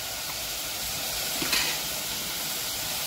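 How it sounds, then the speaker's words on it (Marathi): Ginger garlic paste sizzles in hot oil while cooking khima khichdi, a steady broadband frying hiss with a brief louder burst and light stirring near the middle. "आता टाकणार आहे अद्रक लसणाची पेस्ट"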